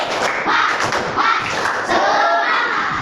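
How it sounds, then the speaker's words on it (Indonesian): A class doing a rhythmic tepuk semangat spirit clap, dense overlapping hand claps and thuds from many children in a room, steady and fairly loud throughout with a bit of murmured voice underneath. "Tepuk semangat."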